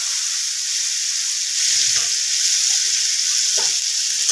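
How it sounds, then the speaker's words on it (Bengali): Turmeric and a ground cumin-ginger paste drop into hot oil for a Bengali cauliflower curry, giving a steady close sizzle and hiss, with a few soft stirring scrapes against the pan. "তেলটা গরম হয়ে গেছে এর মধ্যে আমি একটু হলুদ দিয়ে দিলাম আর এই যে জিরে আদাটা বেটেছি"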